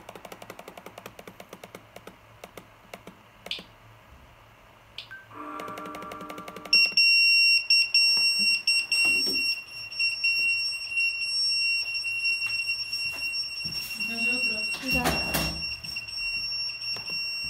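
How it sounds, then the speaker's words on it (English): A phone alarm rings with repeating electronic tones, loud and continuous, after a few quieter beeps and rustles. "that's the alarm on my phone"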